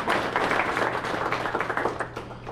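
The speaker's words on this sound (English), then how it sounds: "let's give all of our sponsors a round of applause" An audience at a Lights of Love ceremony for UNC Health Blue Ridge applauds its sponsors, a dense patter of many hands clapping together for a couple of seconds, moderately loud and fairly close, with no voices over it.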